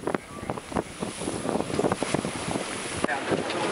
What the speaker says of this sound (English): Wind and spray constantly tear at the foredeck.